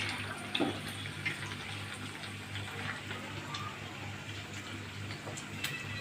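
Two mughlai parathas frying in hot oil make a continuous soft, hissing sizzle that stays fairly even and quiet throughout, with only a few faint pops rising above it.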